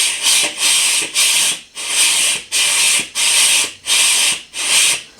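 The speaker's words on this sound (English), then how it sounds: "I'm going to depress my lever here. See if I can suck some brake fluid through the system." Repeated squeaky rasping strokes from the hydraulic clutch lever of a 1984 Honda CB700 Nighthawk S being pumped with the bleeder open on an empty system, about eight even, close strokes with short gaps between them.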